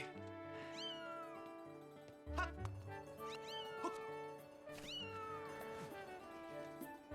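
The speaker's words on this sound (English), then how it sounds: "So I can fight this cat." Cat meowing in the video game Legend of Zelda: Skyward Sword, with three or four drawn-out, falling meows over a steady tonal game music bed and a low thump near the middle.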